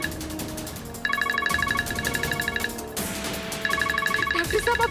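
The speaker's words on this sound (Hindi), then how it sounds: "जय का फोन।" An electronic ringtone chirps in repeated bursts, a bright warbling phone ring that stops and starts again over background noise.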